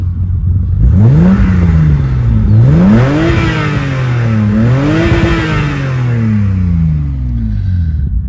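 A BMW E30 325iS engine revs up and down in three rising and falling sweeps, loud and close, the pitch climbing and dropping back to a rumbling idle between each rev.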